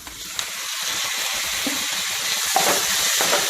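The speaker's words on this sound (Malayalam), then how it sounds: "നമുക്ക് തക്കാളി ചേർത്ത് കൊടുക്കാം." Tomatoes for chutney hit a hot pan and burst into a loud, bright sizzle, hissing and crackling steadily with a few sharp pops and stirring clatters, no talking.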